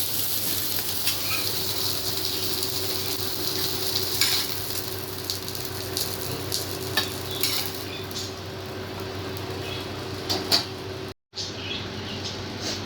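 Fish coated in masala frying in a pan, a steady crackling sizzle with occasional scrapes and clinks of a utensil against the pan, close and continuous with no talk.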